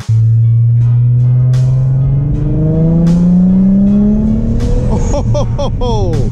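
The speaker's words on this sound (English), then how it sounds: "I added this little resonator here after the turbo just to make the car sound good" A turbocharged car with a rear-mounted turbo and a resonator fitted after the turbo revs hard nearby, its loud engine tone climbing steadily and then breaking into rapid higher revs, with no talking.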